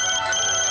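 A telephone ringtone sounds in a Bollywood film scene, a short, loud burst of bright electronic tones lasting under a second.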